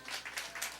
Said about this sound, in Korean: 우리 자녀 격려에 박수 해주십시오.